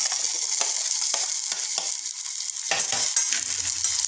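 Tomatoes sautéing in a hot oil tempering for Maharashtrian varan, a steady frying sizzle close up with repeated scraping stir strokes in a quick irregular rhythm, no voices.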